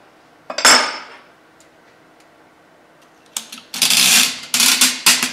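Metal clicks and ratcheting clatter while a castle nut is tightened on a rifle buffer tube, with a sharp clank early, a quiet gap, then a run of close, irregular metallic scrapes and taps.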